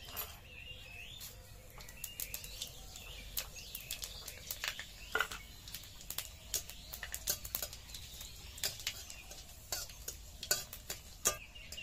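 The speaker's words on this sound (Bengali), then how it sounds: "शुकनो लंका आर पाँच फोड़न।" Dried red chilies and five-spice frying in mustard oil in a wok, giving a faint steady sizzle broken by many sharp crackles and pops throughout, with no voices.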